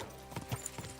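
A few hoof knocks from a horse in Kingdom Come Deliverance 2 land in quick succession, fairly close and moderately loud within a brief burst of game ambience.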